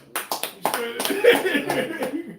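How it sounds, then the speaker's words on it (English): A few sharp claps ring out nearby around a podcast table, a handful of separate hits followed by people talking over them. "Clap it up."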